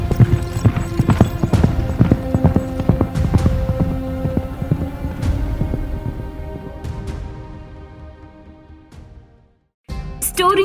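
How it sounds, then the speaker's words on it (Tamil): Hooves of a horse clip-clop in a quick, steady rhythm as a rider mounts and rides off, loud and close at first, then fading into the distance before a brief silence. "உடனே குதிரையின் மீது ஏறி சென்றார்"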